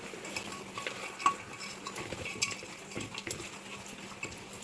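A spoon stirs roasted spices, garlic and turmeric into a tapioca and bone curry in a pot. Scraping clinks come in an irregular rhythm over a faint background sizzle, close by with no talking.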